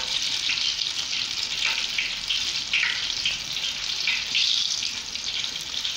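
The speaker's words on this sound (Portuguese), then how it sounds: "minha mãe ainda tá fritando" Steady hiss and crackle of zucchini fritter batter frying in hot oil in a pan, continuous and fairly close, with small bubbling bursts rising and falling throughout.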